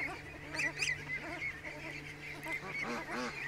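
A pet goose honks repeatedly in a lively run of nasal calls, close and fairly loud over a steady background hum, with a few overlapping bursts near the start and end.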